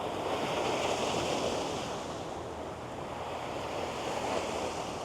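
Big ocean waves crash and roar continuously along a rocky Singapore shore, a dense, loud wash of surf with wind buffeting the microphone throughout.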